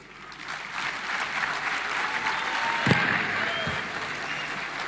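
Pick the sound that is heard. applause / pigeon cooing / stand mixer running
applause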